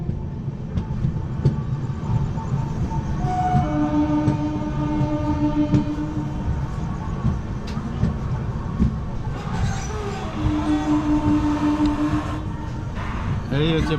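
Howrah to New Jalpaiguri 16597 Amrit Bharat Express rolls along the rails past Bankra Nayabaz, a continuous loud rumble from inside the coach with faint rhythmic clatter, while a voice talks over it.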